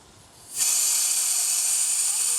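A burst of compressed air from an air compressor hose starts abruptly and holds as a loud, steady, close hiss, used in shaping a handmade Chinese dragon.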